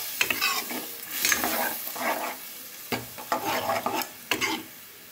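Cauliflower frying in a pan as water is added, with bursts of sizzling and spatter alongside repeated scraping stirs and utensil taps, moderately loud and close.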